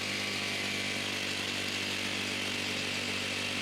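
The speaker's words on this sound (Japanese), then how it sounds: "というラジコン草刈り機です。" An Iseki RC-SP530 radio-controlled spider mower runs nearby outdoors, its engine a steady, loud, unbroken drone with no talking.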